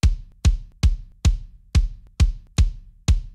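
Eight evenly spaced punchy kick drum hits, layered from Tama Star Classic, GGD Modern and Massive samples, each with a sharp attack and a deep, quickly decaying boom in a pop punk mix.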